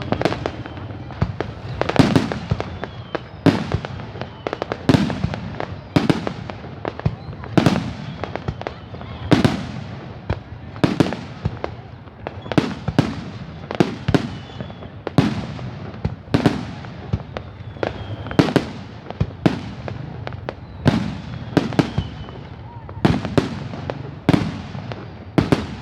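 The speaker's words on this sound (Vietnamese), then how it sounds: "Ám chỉ người ta đốt pháo hoa này sẽ có một mùa bội thu đấy." Fireworks being set off at a celebration, with repeated sharp bursts and crackles at an irregular, steady pace throughout, loud and fairly close, with faint voices in the background.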